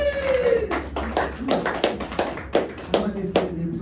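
A live audience at a solo stage show claps in a string of separate sharp claps, fairly close and loud, with a person talking over them.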